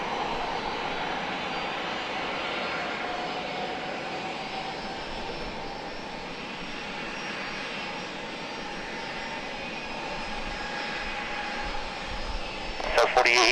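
A Southwest Boeing 737 jet roars steadily on its takeoff run from runway 27 at twilight in San Diego, a loud, sustained engine whine heard from a distance that grows near the end.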